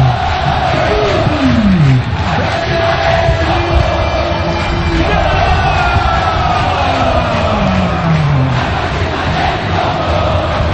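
Paysandu football supporters in the Curuzu stadium roar and chant in a dense, sustained crowd din, with rising whistle-like tones and siren-like swoops cutting through the steady celebratory noise.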